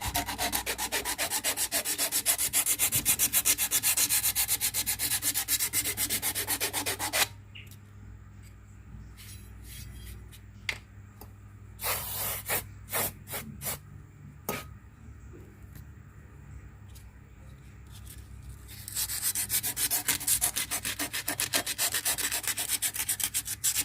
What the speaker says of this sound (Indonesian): gosok pakai amplas sedikit.